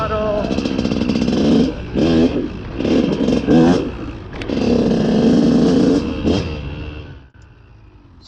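A KTM 200 SX two-stroke dirt bike engine revs repeatedly at low throttle, rising and falling in short blips over a steady raspy idle, loud and close, before cutting off abruptly near the end.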